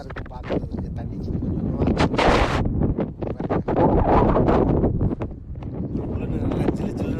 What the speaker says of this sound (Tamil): நல்லா ஜில்லுன்னு காற்று அடிச்சுக்கிட்டு இருக்கு